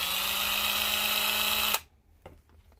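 A Ryobi 1/2-inch cordless impact wrench with 300 ft-lbs of torque spins at its first speed setting, giving a loud, steady whine that cuts off abruptly, followed by faint clicks.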